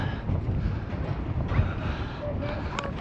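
Steady, cold outdoor wind on the Icefields Parkway in Canada buffets the microphone, a broad rumbling roar with gusts rising and falling throughout.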